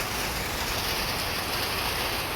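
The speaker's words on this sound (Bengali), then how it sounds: "শেষ পর্যন্ত বৃষ্টিটা চলে আসলো।" Steady rain falls on a cloudy day, heard as a dense, even hiss of drops that keeps up without a break, with no voices over it.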